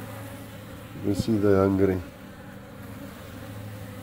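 Hungry honeybees gather in large numbers near their hives as winter approaches, making a continuous close buzz. A person speaks briefly over it while the buzzing goes on underneath.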